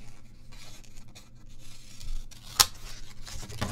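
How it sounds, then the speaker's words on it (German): Large scissors cut open packaging: quiet rustling and handling lead up to one sharp, crisp snip, followed by more light rustling. "Ach, hier ist meine große Schere."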